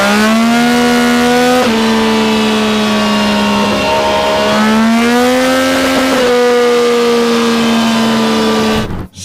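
A Yamaha R9 motorcycle engine held at full throttle on its Sport map, a loud, steady, high-pitched engine wail that rises and dips slightly in pitch before cutting off abruptly at the end.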